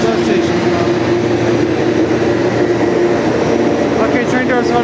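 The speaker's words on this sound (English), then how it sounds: "train doors are now closing at Agincourt GO station" A GO Transit commuter train idles at Agincourt GO station as its doors close, giving a continuous low diesel hum with a steady tone under faint background activity.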